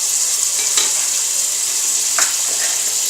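Cut ridge gourd for a hilsa stew sizzles loudly in a hot pan, a close, continuous frying crackle with a couple of brief stirring knocks, and no voices.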